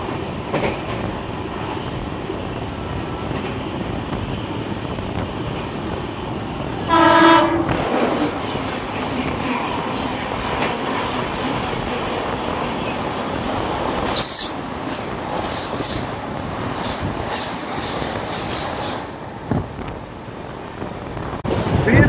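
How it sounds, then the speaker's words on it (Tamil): A train running fast at about 110 km/h past Coimbatore, a continuous rumble and rattle of wheels on the track, with a short horn blast partway through and occasional squeals. "ட்ரெயின் செம்ம ஸ்பீடாக போயிட்டு இருக்கு மக்களே."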